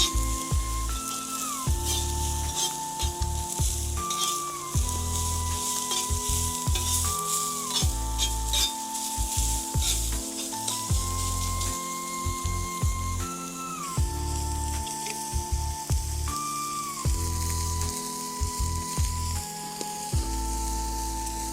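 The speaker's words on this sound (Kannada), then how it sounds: "ಫ್ರೈ ಆಗಲಿ ಚೆನ್ನಾಗಿ" Mangalore-style egg kothu parotta fries in a pan with a continuous close sizzle and occasional stirring scrapes, over a steady tonal backing with stepped pitch changes.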